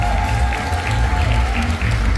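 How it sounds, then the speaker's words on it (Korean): Crowd at a breakdance battle event claps in a short, loud burst of applause over a steady low hum, with a sustained tone running under the clapping. "다시 한번 뜨거운 박수를 부탁드리겠습니다"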